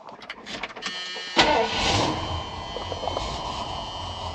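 A car driving through a neighborhood, its engine a low steady rumble inside the cabin, with a sharp thump partway through and broadband road and wind noise after; no talk.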